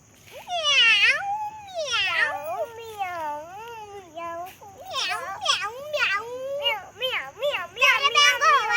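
A voice imitates a cat, producing a string of close, sing-song meows with rising and falling pitch, some drawn out and others quick and repeated.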